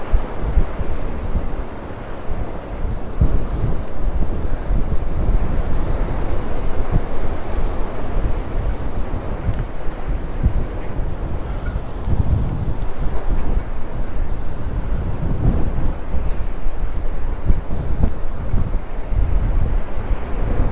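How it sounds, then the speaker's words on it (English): Big waves crash against rocks under strong wind at Santa Ponsa, Mallorca, a loud, continuous roar of surf and buffeting wind across the microphone with no voices. "the waves crashing the rocks are pretty big here"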